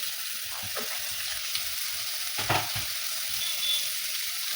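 Radish pieces frying with five-spice in a pan, a continuous crackling sizzle with a few stirring scrapes, close and alone.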